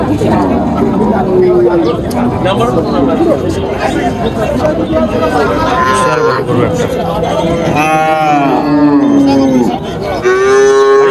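Cattle at a Bangladeshi cow market selling large bulls for Qurbani, lowing in several loud, drawn-out moos that rise above a steady crowd hubbub and people bargaining nearby.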